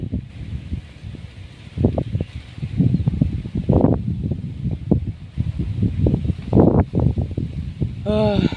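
Wind gusts near an overflow weir, buffeting the microphone in rough, fluctuating rushes that swell and fade, with someone talking over it.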